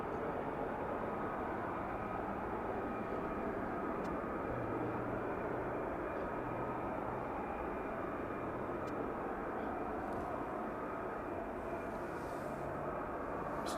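Jet aircraft fly in at RAF Lakenheath at night, a steady, fairly distant roar that holds evenly for the whole stretch.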